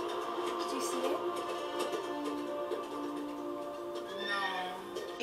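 A horse neighs and whinnies in a Tollywood film fight scene, set against dense music and action effects, with a shrill rising whinny near the end.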